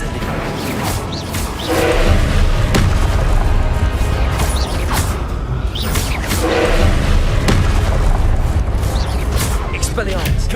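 Repeated booming blasts from the Confringo spell in Hogwarts Legacy land every few seconds over a dense, roaring layer of battle noise and crashing debris, with a voice talking throughout.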